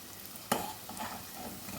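Leftover rice dropped into a pan of frying egg fried rice, a sudden soft thud and hiss followed by a steady low sizzle, close and fairly quiet.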